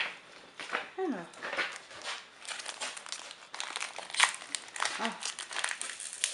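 Crinkling plastic wrapping on a trading card tripack being pulled open in irregular bursts, close up, with a brief voice and a dog whimpering faintly at times.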